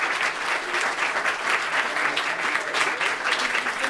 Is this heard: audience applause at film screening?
yes